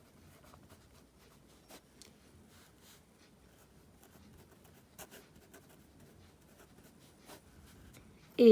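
Chalk taps and scratches faintly on a classroom board while an equation is written, producing sparse light ticks and short strokes over a quiet room, ending with a louder scrape.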